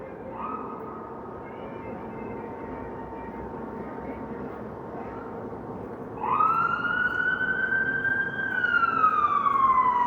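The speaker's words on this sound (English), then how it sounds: "And that would be an ambulance." An ambulance siren wails steadily over downtown Toronto traffic noise after midnight, then a second, louder siren sweeps in close with rising and falling tones.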